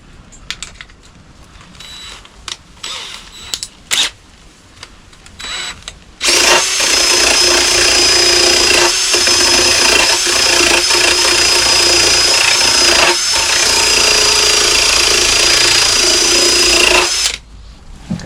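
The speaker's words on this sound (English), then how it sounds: "Let's try clean it up with drill." A power drill with a wire brush whirs loudly against rusty metal on a Mk2 Ford Fiesta for about ten seconds with a harsh grinding hiss, preceded by scattered clanks and handling noises.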